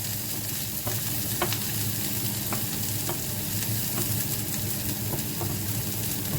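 Onions sautéing on medium heat in a Jaffna-style egg and tomato rice dish, giving a steady, close sizzle with a few light scrapes of stirring throughout and no talking.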